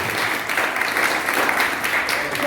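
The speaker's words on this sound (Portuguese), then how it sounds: "Tu pode aplaudir ao Senhor, tu pode glorificar o nome do Senhor." A church congregation at a family worship service claps steadily, a continuous wash of many hands that stays even and fairly close throughout.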